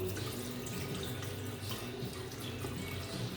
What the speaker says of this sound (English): let's pour that in there.